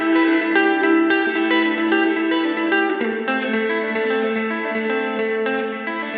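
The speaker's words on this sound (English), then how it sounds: "The Ledges is a tri-voice reverb featuring room, hall, and plate modes" Electric guitar through an EarthQuaker Devices Ledges tri-voice reverb pedal with room, hall and plate modes: sustained strummed chords ringing with a lush, smeared reverb tail, steady and fairly loud with no gaps.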